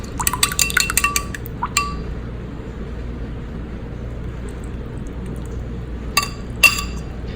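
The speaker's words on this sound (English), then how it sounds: "I'm gonna add in about half of this dressing." Dressing is poured into a bowl of gluten-free pasta salad, with a few brief clinks of glass and utensil at the start and end around faint pouring and quiet background hum.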